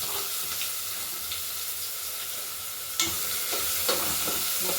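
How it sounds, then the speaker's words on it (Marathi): Chopped onions and cumin fry in a pan with a bright, hissing sizzle, joined by occasional stirring clatters and a louder burst of crackle partway through. "थोडंसं आपल्याला जिरं टाकून घ्यायचे अर्धा चमचा आणि कांदे बघा दोन बारीक चिरलेले कांदे टाकून घेणार आहे"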